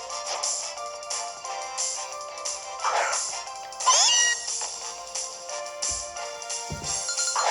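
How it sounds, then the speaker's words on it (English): A Kanto Meowth in the Pokémon Moon video game lets out its synthesized meowing cry, bright and warbling, over ongoing game music and effects during a trial battle. "So she's got a Kanto Meowth."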